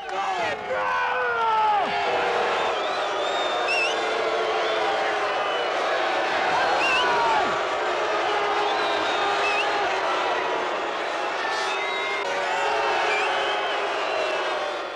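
A packed stadium crowd roars and cheers steadily at a 1974 Pittsburgh Steelers NFL football game, a dense, sustained wall of voices with whoops and shouts rising through it.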